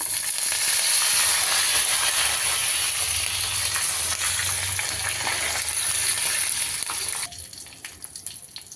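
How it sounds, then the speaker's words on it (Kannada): Cumin, dry red chili, asafoetida and curry leaves tempering in hot oil for wedding-style rasam give a loud, dense sizzle that drops abruptly to a quieter hiss near the end. "ರಸಕ್ಕೆ ಒಗ್ಗರಣೆನ ಹಾಕ್ತಾ ಇದ್ದೀನಿ"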